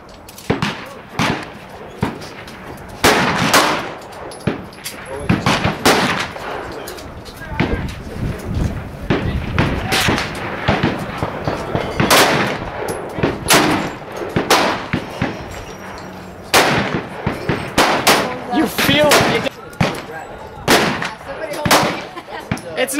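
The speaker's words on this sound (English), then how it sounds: "I'm not even gonna aim, I'm just gonna fire it." A .357 magnum revolver fires Buffalo Bore 180-grain jacketed soft-point rounds outdoors at Burro Canyon, a string of loud, sharp cracks spaced irregularly over more than twenty seconds, with people talking between the shots.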